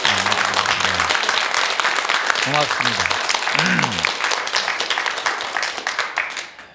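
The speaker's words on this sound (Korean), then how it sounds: "여러분들 박수 한번 쳐주세요." Lecture-hall audience applauding steadily and loudly throughout, with someone speaking briefly over the clapping before it begins to thin near the end.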